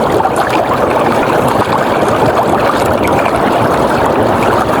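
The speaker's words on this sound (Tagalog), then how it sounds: "salungat tayo sa agos kaya sagwan na tayo kumaroon" Continuous rushing water around a small boat being paddled against a strong current at night, loud and close, with a steady churning and splashing texture.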